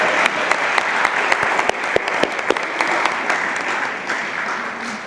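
An audience at a talk evening claps for an absent writer, a dense, sustained round of applause with sharp individual claps standing out, loud and steady before easing slightly toward the end.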